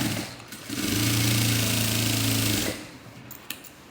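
Sewing machine stitching a puff sleeve, with a short stretch of fast, steady mechanical whirring that starts, holds for about two seconds, then stops, followed by faint handling clicks.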